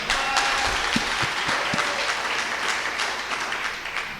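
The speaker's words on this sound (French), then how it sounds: "On peut applaudir les mamans ce matin." A church congregation applauds the mothers during a Sunday service, a steady roomful of clapping throughout with a few sharper individual claps standing out near the start.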